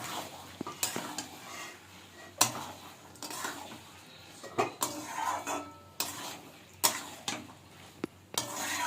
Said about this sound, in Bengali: তোমার ঢাকনাটা খুলে একটু নেড়ে নিলাম